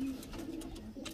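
A pigeon coos softly and briefly, a low murmuring call against quiet background noise.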